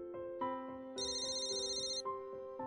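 A phone ringtone rings in a domestic scene, a bright synthetic melody of repeating tones that jumps to a higher burst partway through, loud and close, with no talk over it.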